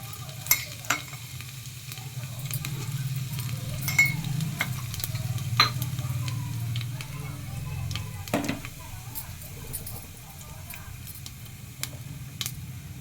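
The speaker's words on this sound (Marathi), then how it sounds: "त्यात एक पळी तेल टाकून तेल गरम झाल्यावर जिरे टाकते" Cumin seeds crackle and sizzle in a ladle of hot oil in a pressure cooker, a steady close frying hiss with scattered pops and clinks throughout, no talking.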